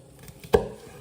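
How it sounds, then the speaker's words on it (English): A single crisp knife stroke cuts down through a shallot onto a chopping board, one short sharp tap close by, preceded by faint soft contact sounds. "So I'm going to take some long slices down the shallot"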